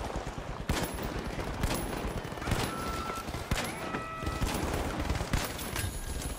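Rapid bursts of video game gunfire crackle continuously, with overlapping shots and occasional electronic pings layered over a dense, steady background roar.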